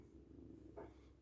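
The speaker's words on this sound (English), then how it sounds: "Y'all hear him purring?" A soft, close cat purr: a steady, low, rumbling hum that continues throughout, with a brief brighter rustle near the end.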